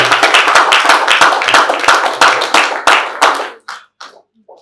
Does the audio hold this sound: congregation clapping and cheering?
yes